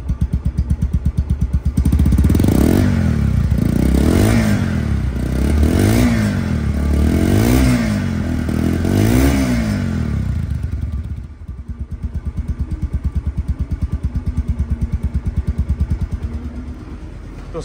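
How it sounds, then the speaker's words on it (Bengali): A 2023 Bajaj Pulsar double-disc motorcycle engine idles close and loud with a steady, rapid thumping beat, surging briefly early on before settling back to an even putter. "মাত্র ইঞ্জিনটা রানিং অবস্থায় আছে, চালু অবস্থায় আছে। সাউন্ডটা শোনেন"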